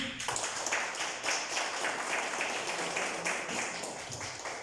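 A church congregation claps steadily and continuously, a dense wash of many hands applauding throughout, with no speech over it.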